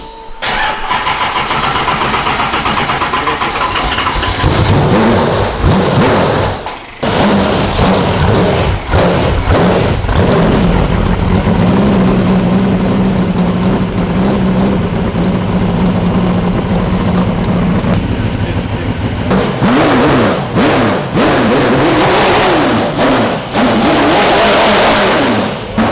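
A car engine cranks and fires up out of gear, then runs loud and close, with throttle blips and revs rising and falling under a few thumps before settling and revving again.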